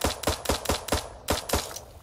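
Rapid gunfire in the video game Eden Star: about nine sharp, loud shots in a quick, even rhythm, with a brief gap before the last few.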